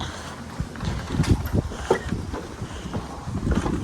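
Strong wind gusts on the exposed summit of Phu Thok in Bueng Kan, Thailand, with buffeting rumble and uneven bursts close to the microphone, no talking.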